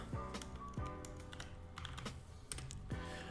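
Keys clatter steadily on a computer keyboard as code is typed, a quick, close run of soft clicks and taps with a few faint tones in the background.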